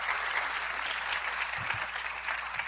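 Steady, dense audience applause at a biodiversity summit, a broad continuous wash of many hands clapping at moderate distance with no talking over it.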